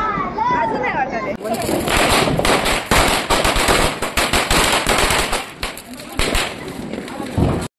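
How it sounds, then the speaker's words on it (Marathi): Diwali firecrackers bursting in rapid, irregular cracks and pops, some close and loud, with voices heard over the bangs. "यावेळेस ना सगळ्या नवीन नवीन फटाके आणले आहेत"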